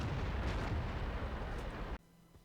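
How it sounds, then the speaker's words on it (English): Tank gunfire hitting the player's tank in World of Tanks, a heavy rumbling blast roaring loudly for about two seconds before cutting off abruptly into quiet. "Someone's shooting us."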